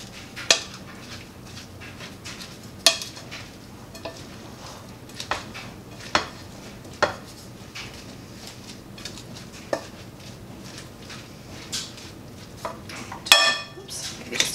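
Caraway seeds are mixed into shredded sauerkraut cabbage in a bowl for white wine sauerkraut. Scattered clinks and scrapes of the utensil against the bowl come at irregular intervals over faint background noise.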